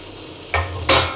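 Masala frying in oil in a pan for pea curry (matar sabzi), a close, steady sizzle broken by two short scraping strokes of a spoon against the pan.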